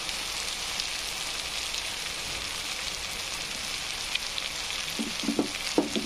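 Potatoes frying in a pan with coriander and cumin powder, a steady close sizzle throughout with a few soft stirring clicks and scrapes near the end.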